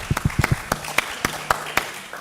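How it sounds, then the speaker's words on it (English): An audience at a young manufacturing leaders summit applauds the third-place winners. A small crowd gives sparse, distinct hand claps at an uneven pace, thinning out toward the end. "big applause for the third places"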